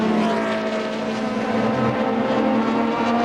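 A Mazda Argo race car with a Mazda 13B rotary engine drones steadily at high revs during a 1985 IMSA race at Portland, a continuous loud engine tone that holds without breaks.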